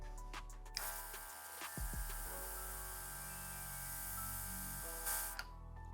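Airbrush (G14 or MFB Classic) spraying paint after its valve is opened, a steady close hiss of air and mist that runs alone with a brief pause and a few small clicks.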